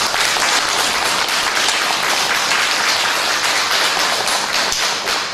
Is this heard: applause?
yes